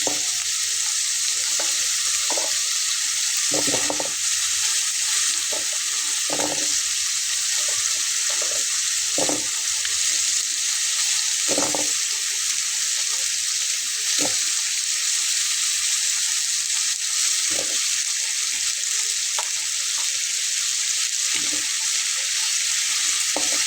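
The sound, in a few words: taro root (kochur mukhi) frying in a pan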